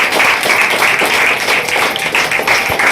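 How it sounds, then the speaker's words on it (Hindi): Steady applause from an audience at a business seminar, loud and close, with dense clapping filling the full three seconds. "एक मैडम के लिए जोरदार ताली हो जाए।"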